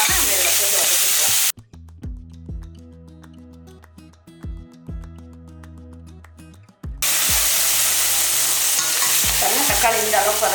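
Tomato being sautéed and stirred in a pan for a mutton gravy, loud dense sizzling at the start and end with a quieter middle stretch of rhythmic stirring knocks and clinks.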